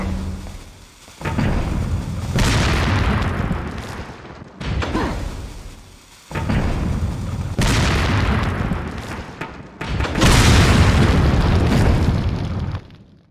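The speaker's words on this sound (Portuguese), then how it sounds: "E tem uma granada lá." A grenade blast in Resident Evil 4 brings several loud, sustained booming roars in separate waves, each lasting a couple of seconds and divided by brief quieter gaps, with no talk over them.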